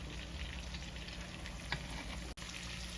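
Lamb chops sauté in garlic butter in a pan, giving a steady, close sizzle and crackle that runs unbroken, with one brief stir-like scrape and a momentary drop near the end.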